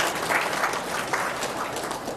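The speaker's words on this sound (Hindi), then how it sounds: "वो 100 के हो जाएं, उनके लिए ताली बजाओ।" A large audience at a yoga and Ayurveda talk applauds continuously, a dense, even wash of many hands clapping at once, steady and fairly loud without voices on top.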